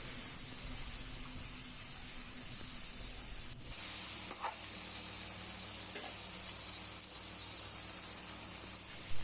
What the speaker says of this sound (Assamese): এতিয়া আমি ভালকে 5 মিনিটমান ভালকে ভাজি ল'ম